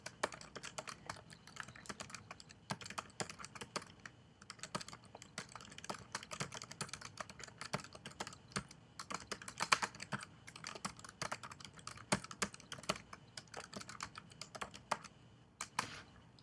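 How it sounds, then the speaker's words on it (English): Steady keyboard typing on a computer keyboard, a run of quick irregular clicks and key taps that continues for the whole stretch, close and fairly quiet, with no talking over it. "Let me type this out."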